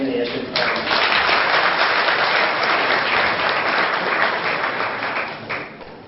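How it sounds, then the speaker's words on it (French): Audience applause for the Ombudsman of the Republic of Burundi at an official ceremony: dense, loud, sustained clapping through the whole stretch, with a few voices underneath. "Prêtez-moi vos mains pour applaudir son Excellence l'Ombudsman de la République"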